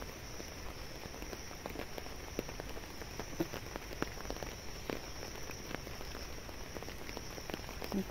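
Steady rain falls outdoors in a village garden on a morning, a dense continuous patter of drops with scattered sharper taps on nearby surfaces, moderately quiet and unbroken throughout, with no talking.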